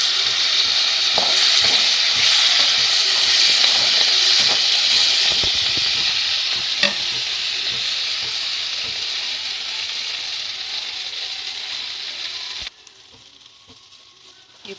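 Coriander and mint leaves sauté in a hot pan for a peerkangai chutney, giving a loud, continuous sizzling hiss with light stirring clatter that suddenly drops to a much quieter simmer near the end.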